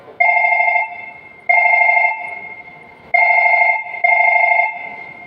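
Old-style telephone bell used as a sound effect in a Krishna Sudama katha, ringing loud and near in four bursts of ringing with short gaps between them.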